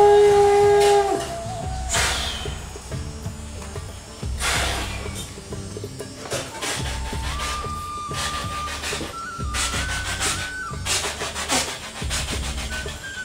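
A human voice imitates an old train starting and pulling away. A whistle-like tone opens it, then rhythmic breathy chuffing bursts build into a steady chugging beat with rising whistled pitches, loud and close.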